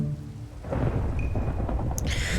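A storm with a waterspout from the Minecraft Localised Weather mod brings a low rolling rumble of thunder over steady rain, with a brief brighter crack near the end.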